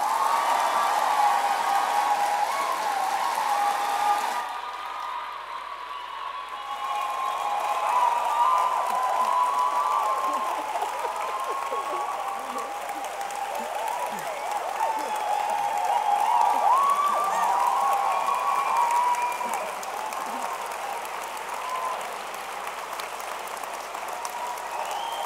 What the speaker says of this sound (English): let's have a round of applause for Jackie Kay and Angela Davis